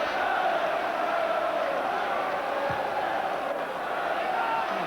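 A football stadium crowd at Southampton v Liverpool roars in a steady, loud, dense wash of noise that holds throughout, with no single voice standing out.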